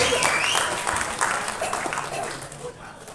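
An audience at a film audio launch claps loudly to welcome a music composer onto the stage, with the dense applause fading gradually while a few voices murmur underneath.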